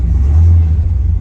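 A 1967 Pontiac GTO V8 muscle car engine rumbles deeply just after starting, a loud, close low growl that briefly swells.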